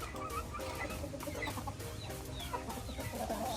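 A brood hen from a backyard breeding flock clucks in a steady run of short, close calls, with low farmyard rumble underneath and no talking.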